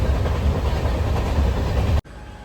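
A train rumbles steadily along the tracks with loud, continuous clatter, then the sound cuts off abruptly near the end, leaving a quieter hum.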